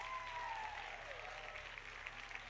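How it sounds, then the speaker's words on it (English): Steady crowd applause at a Rainbow Six Siege presentation filling the whole moment, with a sustained electronic tone sliding downward early on. "Please give a big round of applause."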